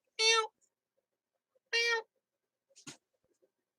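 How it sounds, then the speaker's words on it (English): Two clear, drawn-out cat meows separated by a pause, followed by a short faint rustle or click. "Your cat says hi."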